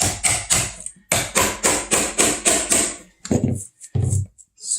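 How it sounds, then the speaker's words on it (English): Sharp, close hammer taps strike the back of a stiff putty knife while prying off baseboards, two quick bursts of rhythmic blows followed by a few scattered, slower knocks. "this one's designed where you can tap on the back of it with a hammer"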